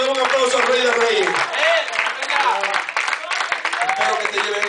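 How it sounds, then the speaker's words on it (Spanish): A church congregation bursts into sustained, loud applause with clapping and cheering voices mixed in throughout. "Dale un aplauso al Rey de Reyes."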